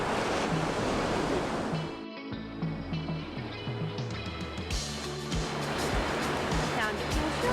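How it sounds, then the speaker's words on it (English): Steady roar of surf with gusting wind buffeting the microphone, a constant broadband wash throughout, with a brief dip midway. "It's windy, there's water, there's sand. I'd say confirmed beach."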